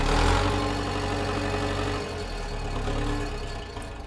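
A Daimler Knight 6-cylinder 105-horsepower petrol engine in a Mark I tank runs steadily, a loud, close, low rumble with a constant harmonic drone.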